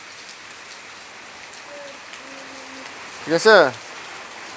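Heavy rain falls in a steady, dense hiss throughout, with a brief voice speaking near the end over the downpour.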